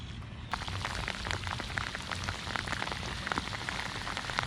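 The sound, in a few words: light rain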